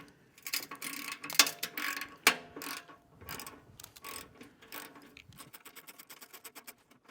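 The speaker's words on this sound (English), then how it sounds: "right under here, we're going to loosen up this 15 millimeter" A ratchet works a 15 mm exhaust clamp bolt loose on a Harley M8 Touring slip-on muffler, giving close, quick clicking strokes in bursts that slow into a steady run of lighter ticks near the end.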